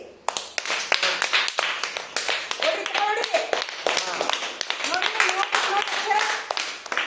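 A group of children clapping together in a classroom, a fast ragged burst of close, sharp hand claps running throughout, with voices calling out over the applause.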